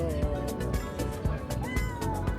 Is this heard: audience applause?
no